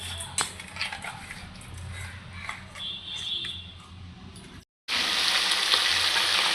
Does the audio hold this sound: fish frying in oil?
yes